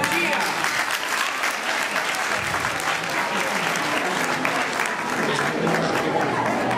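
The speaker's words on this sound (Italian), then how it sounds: "Facciamo un applauso a Mattia." At an evening fundraising event in Pachino, a crowd applauds with thick, continuous clapping at a constant level throughout.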